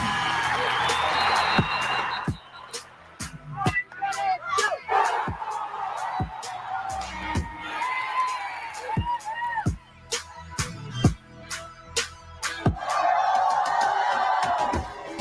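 A stadium crowd cheers and whoops in rising and falling waves, broken by sharp claps and a loud burst of cheering near the end, with a voice talking over parts of it.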